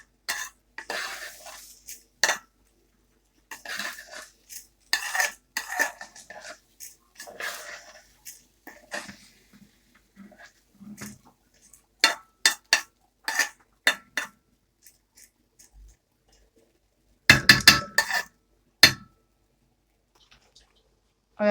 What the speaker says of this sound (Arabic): نحط شوية ملح كده ونشوح قبل ما نزود الشوربة.